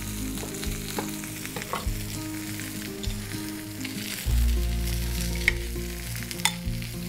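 Medister sausage and pointed cabbage sizzle steadily in a pan, seasoned with orange, soy, salt, pepper and hot chutney, with scattered scrapes and clicks of stirring; the frying grows louder partway through, with no talking.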